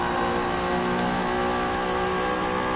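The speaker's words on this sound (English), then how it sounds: "hitting that rev limiter. Sounds amazing." A race car engine in Forza Motorsport held high against its rev limiter, a steady, loud buzzing drone with a strong tonal whine that stays flat and sustained throughout, with no talking.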